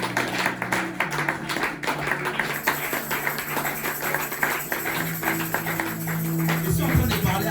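A church congregation claps and cheers for Jesus, a dense wash of applause and voices that continues steadily throughout, with a loud sustained tone and music-like sounds entering toward the end.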